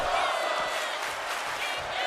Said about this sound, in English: This crowd on their feet.